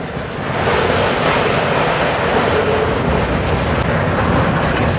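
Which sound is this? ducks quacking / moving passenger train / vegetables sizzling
moving passenger train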